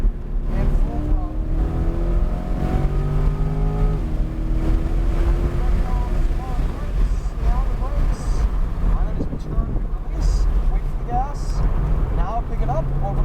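A Corvette C8 Z51 runs at full throttle on the track at New Hampshire Motor Speedway, its engine note rising steadily and staying loud under an instructor's continuous talk.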